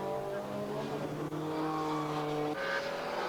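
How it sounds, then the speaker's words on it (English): Formula Opel race cars in a 1998 European series race howl past at high revs after a spin forces the pack to take avoiding action, engine notes rising and shifting, heard from a distance under faint commentary. "move on Ibrahim for 2nd ended in tears, the South African spin forcing the following pack to take avoiding action."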